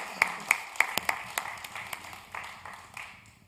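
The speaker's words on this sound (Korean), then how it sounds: "우리를 위해서 비준비하신 하나님께 영광의 박수 올리겠습니다" Congregation in a church service clapping for a few seconds, a handful of sharp claps at first, then scattered and fading applause.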